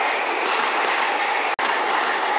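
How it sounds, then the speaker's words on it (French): JR commuter train on the Ueno Tokyo Line near Ueno rushing past close by, a loud continuous roar of wheels and rolling cars with no pause, heard on its own. "les trains de la ligne Tokaido Tohoku qui passent par la Ueno Tokyo Line"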